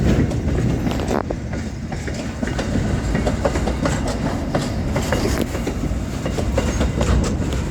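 An Australian freight train rolls over a crossover in the Bluescope steel yard, its wagon wheels clicking and clacking in an uneven rhythm close by, with the heavy rumble continuing throughout.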